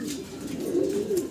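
A young single Lahori pigeon gives a soft, low cooing call that rises and swells through its brief length, close by and alone with no talk.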